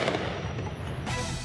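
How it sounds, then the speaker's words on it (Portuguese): Continuous crackle and dense popping of fireworks let off in the Cidade de Deus favela in Rio to warn of arriving civil police, loud and constant with no voices. "Fogos de artifício alertam sobre a chegada da Polícia Civil"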